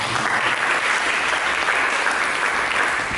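Church congregation at a Sunday service gives loud, dense, continuous applause, a steady wash of clapping that fills the whole stretch without pause.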